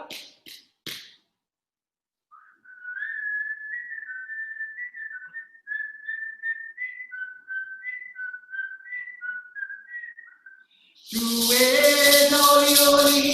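A person whistles a wavering melodic line for a hula chant, close and clear in a quiet room, after a few taps; a loud sung chant then takes over.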